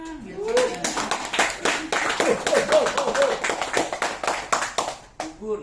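An audience claps along in a lively Indonesian seminar, a steady run of close hand claps mixed with voices and chatter for several seconds.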